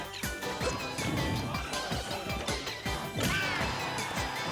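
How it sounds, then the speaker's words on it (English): Rapid, punchy smash and whack hits from a Super Smash Bros. tournament match, Diddy Kong throwing up smash attacks, landing as a dense run of loud impacts over busy game audio. "He was jumping, and Diddy was up smashing"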